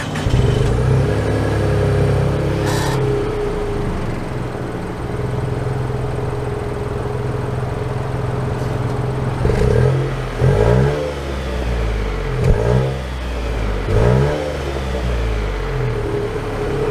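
A 2022 Nissan Rogue SV with its new engine accelerating: a steady mid-pitched engine drone heard from inside, followed by several surging revs with rising pitch as it picks up speed, no talking.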